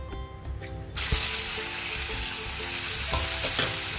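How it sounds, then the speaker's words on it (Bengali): Paneer cubes dropped into two spoons of hot oil in a pan for dry paneer masala, setting off a sudden loud, steady sizzle that holds to the end, with a few clinks of a utensil, no voices. "এখন প্রথমে আমি পনিরটা ভেজে নেব।"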